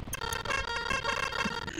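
A horn in the video game Lethal Company blares as a sustained, loud, buzzing tone that fills the whole moment, with faint game noise underneath.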